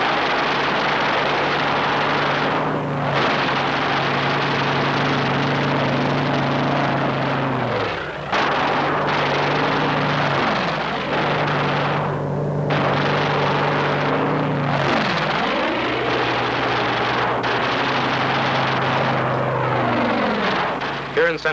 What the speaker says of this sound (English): fighter aircraft swooped down to destroy the enemy